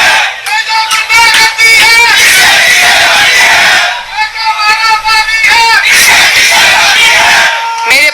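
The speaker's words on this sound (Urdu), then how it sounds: "یہ جو آپ نے نعرے سنے" Loud crowd at a political rally, many voices shouting and chanting slogans together in rhythmic waves, continuous and close throughout with brief dips between bursts.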